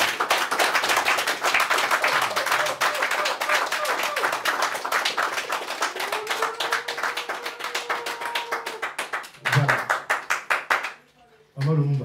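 Audience applause at a Congolese community gathering in Mulhouse: dense, sustained clapping from a crowd with voices calling out underneath, thinning into a few scattered claps near the end.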